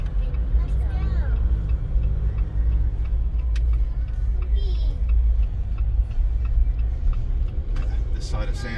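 A 2021 Jeep Wrangler JLU Rubicon EcoDiesel driving, heard from inside as a constant low engine and road rumble, with muffled voices talking over it.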